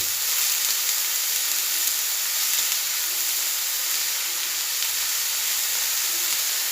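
Mustard seeds crackle and sizzle in hot coconut oil while being stirred, a continuous, loud, even hiss with faint popping throughout and no talking.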